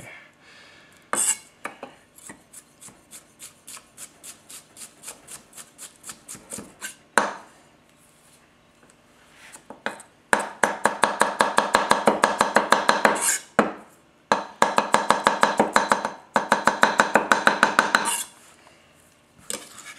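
A Tetsuhiro Handhammer White #1 240 mm gyuto chops on a cutting board in quick, evenly spaced strokes, sharp knocks in fast bursts separated by brief pauses, close and loud with no talk.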